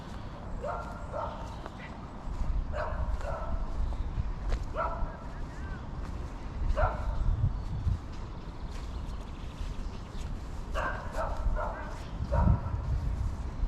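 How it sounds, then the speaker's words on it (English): A loose dog barks in a cemetery, repeated sharp yaps in small bursts with pauses between them, at a moderate distance over a low outdoor rumble. "we've got a loose dog in the cemetery"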